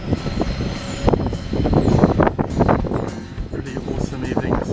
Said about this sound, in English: The train going past.